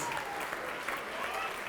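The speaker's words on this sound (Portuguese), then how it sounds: "Vamos aplaudir mais ao nome de Jesus." A church congregation keeps clapping through a worship service, a continuous full burst of applause at a steady level from start to finish, with a voice faintly mixed in.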